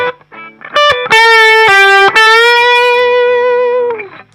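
A loud, sustained distorted electric guitar plays a phrase from a song, with quick picked notes leading into a held, bent note that rings out before fading.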